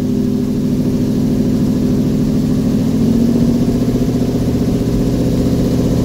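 A 1971 Chevy C10 pickup's engine runs steadily at close range, a loud, even mid-pitched rumble with a smooth low throb that holds throughout, no voices present.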